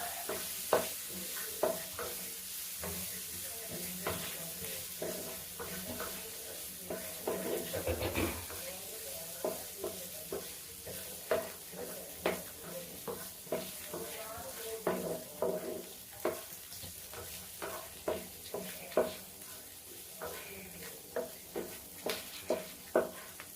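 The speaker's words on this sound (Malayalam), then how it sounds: "ഇനി നമുക്ക് ഇതിലേക്ക് കുറച്ച് കരിവേപ്പിലിടാം." Dried red chillies, garlic and curry leaves fry in hot oil in a pan. There is a continuous crackling sizzle, and a spoon scrapes and taps against the pan in a steady repeated rhythm.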